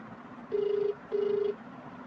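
Phone ringing in the horror video game Shawarma Kiosk Anomalies: two steady electronic rings, each about half a second, separated by a short gap, heard clearly over a quiet low background hum with no talk.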